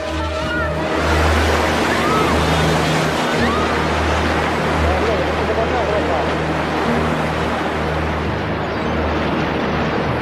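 Tsunami waves surge onto a coastline in a loud, continuous roar of rushing water with a deep rumble, sustained for ten seconds beneath a narrating voice.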